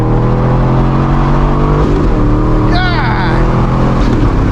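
A Chevrolet Corvette C6 with a cheap short shifter accelerates hard in a roughly 30 mph pull. Its loud engine drone climbs steadily, and a quick gear shift breaks in partway through. Excited voices cheer over the engine.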